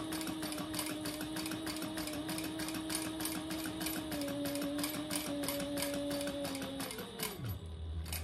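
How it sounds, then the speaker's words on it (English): A sewing machine stitches along the edge of a fabric clutch at a steady, slow pace, its rapid mechanical needle chatter and motor hum running continuously before winding down at the end, with no voices. "I'm just sewing about an eighth of an inch from the side"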